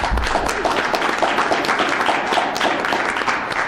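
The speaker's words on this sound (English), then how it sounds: "I'd like to offer you a big round of applause" Applause from the audience at a school committee meeting, a dense steady patter of many hands clapping at a fairly loud, even level throughout, with no talking over it.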